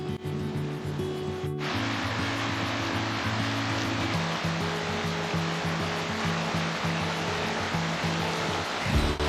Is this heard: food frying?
no